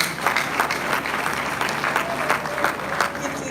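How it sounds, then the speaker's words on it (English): Sustained applause from a large audience in a university lecture hall at an inaugural lecture, dense steady clapping throughout with a few louder bursts. "Please, a round of applause."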